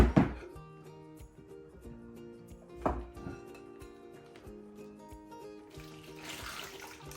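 Liquid splashes and trickles into a roasting pan holding a pork loin roast, with a couple of sharper knocks near the start and steady pouring throughout.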